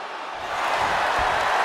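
Arena crowd in the WWE 2K24 video game during a John Cena US Open Challenge match, a broad wash of cheering that swells after a quiet start and holds steady and loud.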